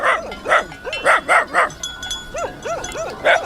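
Dogs bark repeatedly near a large flock of sheep by a lake, in bursts of several loud barks and then a run of quicker yips, close by outdoors.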